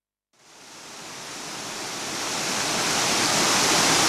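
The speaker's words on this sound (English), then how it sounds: "Well, it's pouring with rain." A dense, steady roar of heavy rain pouring down in South Africa, swelling quickly from silence and holding loud and constant.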